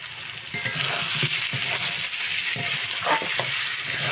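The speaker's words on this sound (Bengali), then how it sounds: "এবার আমি একটু জল দিয়ে ভালোভাবে কষিয়ে নেব।" Potatoes frying in a pan with spices and a splash of water, a steady loud sizzle with repeated scraping stirs of a spoon, no talking.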